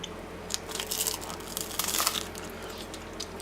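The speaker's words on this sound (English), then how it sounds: "I'll take a good bite." A good bite into a crispy tofu vegan eggless McMuffin: a few close, soft crunches and crumbly chewing over about three seconds, quiet and alone.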